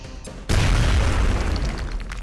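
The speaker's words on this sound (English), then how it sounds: "So I will throw the grenade like that." Grenade explosion in XCOM Enemy Within: a single sudden, loud, close boom bursts out after a brief quieter lead-in, then a dense rumbling, crackling roar sustains and slowly tapers, with no talk over it.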